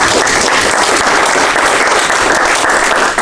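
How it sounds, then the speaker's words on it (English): A crowd at a trading selection event gives a steady round of applause, dense and sustained clapping filling the whole moment without pause or talk over it. "everyone, if you can have a round of applause,"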